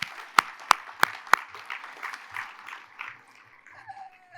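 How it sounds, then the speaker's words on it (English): Audience applause at a science-policy awards event, opening with several sharp, loud claps close by, then a softer scattered patter of clapping from the room that thins out and fades. "So round of applause for that."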